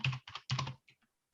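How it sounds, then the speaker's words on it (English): Quick bursts of typing on a computer keyboard, a few close clattering keystroke clusters that stop abruptly into near silence. "I'll just type that in."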